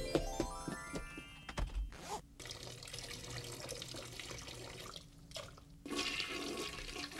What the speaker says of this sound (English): With so much water pumping action.